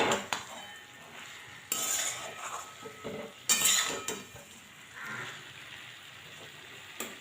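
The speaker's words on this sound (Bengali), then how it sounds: "এবার এটা আমি খুব ভালো করে মিশিয়ে দেব।" A spoon scrapes and clinks against a pan while stirring a spinach-stem and shrimp curry with coriander leaves, in a few louder knocks and scrapes among softer, steady stirring.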